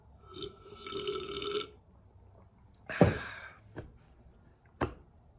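A person burps several times in a row: one long drawn-out belch, then a sharp louder burp and two short ones, all close up and with no talk over them.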